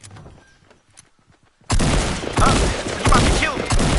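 Gunfire erupts in a Fortnite battle royale match, a dense loud burst of rapid shots that begins abruptly after a few quiet clicks and keeps rattling without a break.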